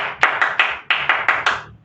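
Several rounds of group applause, each burst starting sharply and fading quickly, repeating in a steady rhythm, loud and close.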